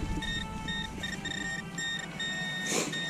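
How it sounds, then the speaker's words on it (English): A phone rings outdoors during metal detecting at an old homesite: a repeating electronic ringtone of short bright tones in a patterned rhythm, moderately faint over a background of outdoor noise, without talking. "There's my phone, never fails."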